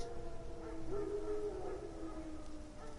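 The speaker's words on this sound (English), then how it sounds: "Wolves? No. Wild dogs." Wild dogs howl in the video game The Witcher 3, a long wavering tonal howl mid-loud under a dark ambient wilderness backdrop.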